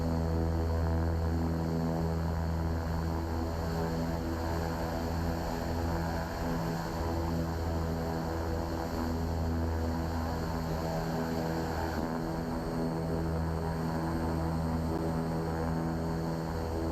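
Steady drone of twin turboprop engines on a simulated King Air 350 in X-Plane 11, taxiing at an airport. A continuous low hum with strong tonal layers runs evenly throughout, loud and close, with no talk.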